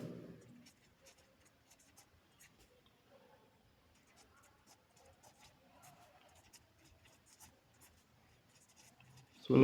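Pen or chalk strokes are set down while the remainder of a maths division problem is written out, giving faint, scattered scratchy taps through quiet stretches, with a louder burst at the very end.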